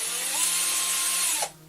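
Ryobi cordless drill on its drill setting with a random bit fitted, whirring steadily at high speed for about a second and a half before the motor cuts off and winds down, loud and close.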